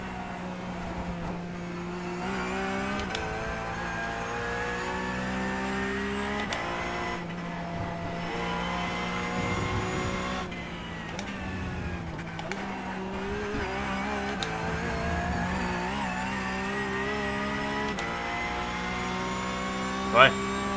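Race car engine in the sim game iRacing drones and shifts pitch as the car slides through corners, a continuous layered whine with occasional bumps, while someone talks in French over it.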